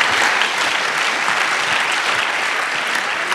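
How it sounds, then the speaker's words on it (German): Warm, sustained applause from an audience at a youth hackathon's final presentations, a dense crowd of clapping hands holding steady throughout, fairly close and loud. "Applaus."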